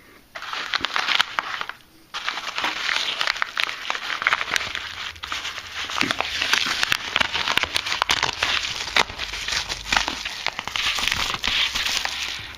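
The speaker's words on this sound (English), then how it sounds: "So let's rip this thing open and see what came in it." A padded mailing pouch holding a Raspberry Pi is torn open by hand, producing loud, close crinkling, ripping and crackling plastic and paper noises that continue unevenly with short pauses and no talking.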